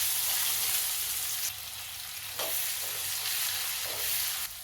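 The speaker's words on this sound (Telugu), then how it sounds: "తాలింపు వేగింది. ఉల్లిపాయ ముక్కలు వేసుకుందాం." Thinly sliced onions, two medium ones, hit hot sesame oil tempering with curry leaves in a pan, giving a loud continuous sizzle with a few stirring scrapes and slight drops in intensity.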